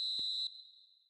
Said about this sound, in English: Relief at last, the final whistle.